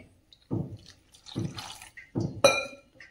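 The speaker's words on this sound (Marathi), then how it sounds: "थोडं पाणी टाकायचं आहे" Three short splashy pours of water into uttapam batter, each a second or less, the last ending in a bright glassy clink, close by with quiet gaps between.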